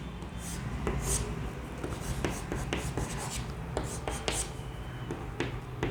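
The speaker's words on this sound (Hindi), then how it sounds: "यहां पर मैं CH3 लिख देता हूं ऐसा" A pen or marker scratches out the formula CH3 on a writing surface, a steady close-up stream of short strokes and scrapes with no talk over it.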